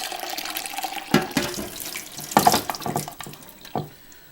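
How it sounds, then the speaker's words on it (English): Hot water runs from a kitchen tap into a home-brewing vessel, a steady close rush with splashing swells as the flow strikes the container. "I'm just going to fill that with a little bit of hot water out the tap"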